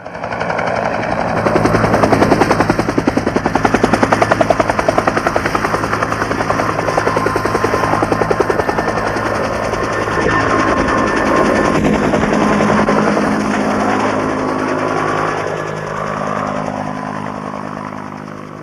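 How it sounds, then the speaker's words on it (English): A helicopter on the ground at Ben Het during the 1972 Siege of Kontum, running loud and close, rotor thumping in a fast steady beat over a heavy turbine whine that shifts slightly toward the end. "the helicopters will stay on the ground for only 30 seconds"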